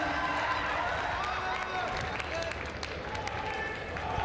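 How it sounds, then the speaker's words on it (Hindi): Dense, steady applause from a large crowd at an outdoor rally in Dediyapada honouring the Prime Minister with an Adivasi welcome, continuous and roaring throughout, with voices mixed into the din. "तमाम तालियों से इस क्षण का आनंद लेते हैं।"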